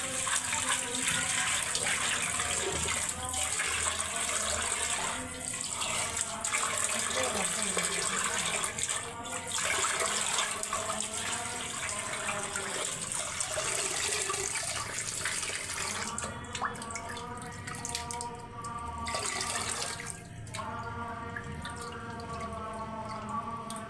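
Water runs steadily from a tap as cut fish are washed with salt, splashing and dripping. The flow pauses briefly a few times, and faint voices can be heard now and then under the noise.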